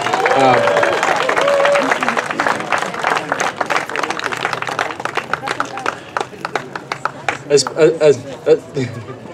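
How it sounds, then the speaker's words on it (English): Audience at a grand opening and dedication of the Larry Itliong Resource Center claps after a call for recognition, a dense wash of applause that thins into scattered claps, with voices and crowd chatter over it. "I think we need to give them a big round of applause"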